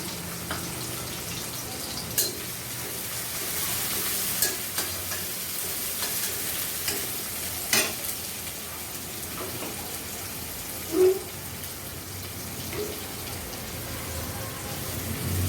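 Chopped onion and garlic frying in a pan, a steady close sizzle with scattered crackles and a few brief stirring knocks, continuous and without talk.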